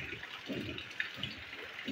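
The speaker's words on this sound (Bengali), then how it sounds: "দেখেন অনেক বৃষ্টি পড়তেছে।" Heavy rain falls during monsoon flooding in Chattogram, heard as a soft, watery rushing and splashing at moderate distance, fairly quiet and steady with no voices.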